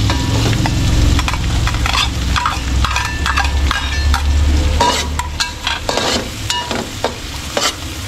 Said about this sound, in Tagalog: papulayin ko lang po ulit yung bawang sibuyas